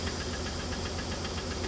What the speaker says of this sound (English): it's basically a bit of a knocking noise